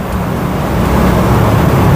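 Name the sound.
road traffic noise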